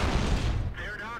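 A medium tank's cannon fires in World of Tanks: one loud, close blast that rumbles and decays within a second, after which a voice begins talking.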